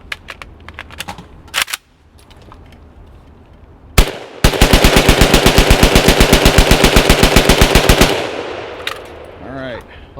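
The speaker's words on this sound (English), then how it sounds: "not as easy to bump fire when you're holding the rifle sideways" A rifle bump fires through a magazine while held sideways, giving a sharp single shot and then a fast, loud stream of rapid gunfire lasting about three and a half seconds, with scattered clicks before and after.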